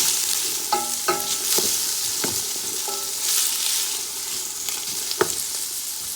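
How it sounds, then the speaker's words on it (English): Vegetable fried rice with grated fresh ginger stirred in a pan, a loud steady sizzle broken by several sharp metallic scrapes and clinks of the spoon against the pan. "So now I have some ginger that I'm gonna be adding, like a teaspoon of grated fresh ginger. That goes very nice with fried rice. Give that a stir."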